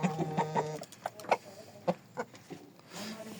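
A hen of a named breed clucks nearby in short, throaty bursts. The sharp clucks are spaced irregularly at moderate loudness, and a softer drawn-out call comes near the end.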